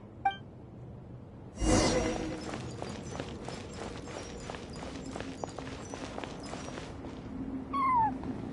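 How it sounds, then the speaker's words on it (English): A cat cries in a video game ruin, a short rising meow near the start and a brighter drawn-out one at the end, with a sharp crash and a run of rhythmic ticking steps between. "I followed the cat's cries to find my way out."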